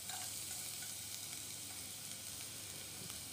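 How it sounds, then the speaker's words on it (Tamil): Three cloves of finely chopped garlic fry in hot oil, giving a steady, close sizzle that stays even throughout with no talking. "ஒரு 3 பல் பூண்டு எடுத்திருக்கேன், அதை குட்டி குட்டியாக நறுக்கி போட்டிருக்கேன்."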